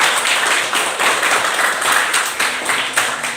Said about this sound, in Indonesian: Berikan aplaus dulu untuk jawaban nomor 1.